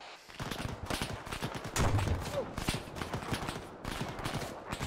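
Rapid bursts of gunfire from the military video game Arma 3 crackle in dense, overlapping volleys throughout, with a heavier thump near the middle and faint voices in the background.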